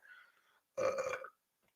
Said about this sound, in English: you just heard me burp